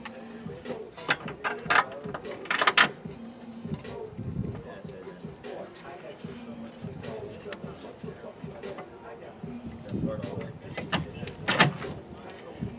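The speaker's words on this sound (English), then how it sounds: "And then now you bolt it in." Ratchet clicking while bolting in a rear camber kit on a car suspension, with short bursts of mechanical ratcheting spread across the clip and a voice talking in between.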